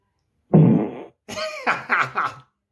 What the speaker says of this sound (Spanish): ¿Te gustaría escuchar otro pedo?